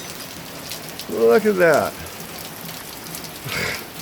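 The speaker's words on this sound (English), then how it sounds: "I think today we've gotten probably 2 inches of rain already." Heavy rain pours down during a day that has brought about two inches, a steady broadband hiss throughout, with a person briefly speaking over it.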